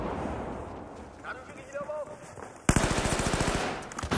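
Rapid automatic fire from an ACW-R rifle in the video game Battlefield 4, a loud fast burst of evenly spaced shots following a stretch of game ambience and a few quieter sounds.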